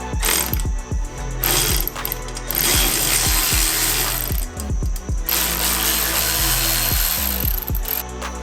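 Allen key loosening a small bolt on a car being prepped for a dyno with a 500+ hp RB25 engine build, giving repeated close ratcheting clicks in bursts with short pauses between them.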